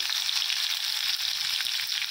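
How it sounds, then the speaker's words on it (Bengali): Potatoes and pointed gourd fry in oil with nigella seeds in a kadai wok, giving a steady, loud, close sizzle that runs unbroken with no voices. "আমি কড়াইটা বসিয়ে দিয়েছি। ভালো করে ভেজে নিচ্ছি।"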